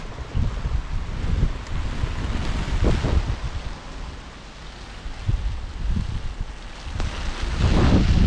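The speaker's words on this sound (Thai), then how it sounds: "ใต้ฝุ่นลมแรงโคตร" Strong typhoon wind buffets the microphone outside a temple area at Naritasan in Japan, a loud continuous roar with heavy gusts rising and falling throughout and no talking.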